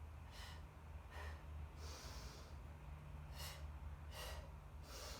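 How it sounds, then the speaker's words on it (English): Audible breathing during a Pilates twist in a progressive workout, several breaths in and out in an even rhythm, close to the microphone, with a faint background hum and no talk. "Big breath in at the top. I'm going to turn and breathe out, breathe in."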